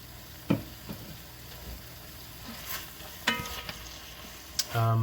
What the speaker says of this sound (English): And then again, you're gonna fry this mix for about 8 minutes